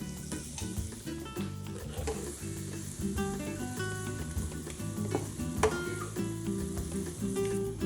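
Bell peppers sizzle in olive oil in a pan, a steady, gentle frying hiss with occasional stirring clinks and scrapes, no voices.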